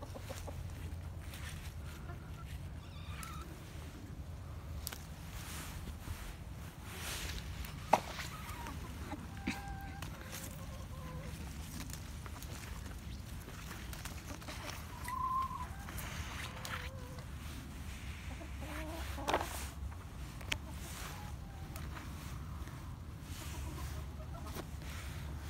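Noisy backyard chickens cluck on and off at a moderate distance, scattered short calls over a low steady hum, with occasional talking.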